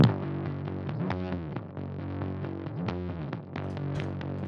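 A gritty bass guitar through distortion, saturation and a stomp compressor plays sustained, swelling notes with a saturated, compressed growl, steady and upfront without any voices.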